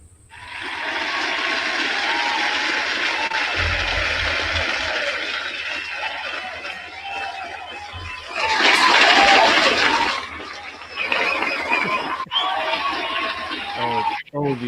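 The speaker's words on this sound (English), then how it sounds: "Oh, the applause. It's getting bigger." Applause sound effect swelling louder, a dense continuous crowd-like wash that surges toward the middle and then breaks into choppier bursts, with a voice talking over it.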